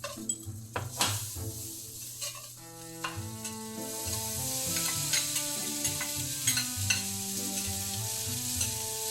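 Butter heats in a pan for an apple and pork stew, a faint hiss that builds and steadies over time, with occasional utensil clinks and a melodic tune playing in the background.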